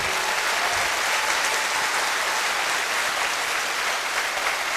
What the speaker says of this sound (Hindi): ये तालियां बहुत नहीं है मेरी मां के लिए।